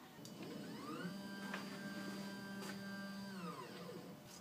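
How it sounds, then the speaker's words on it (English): Stepper motor on a DIY Arduino CNC router's Z-axis whining as it ramps up in pitch, holds a steady tone for a few seconds, then ramps back down and stops, faint and alone. "I'm going to tell my Z-axis to move up 1 inch."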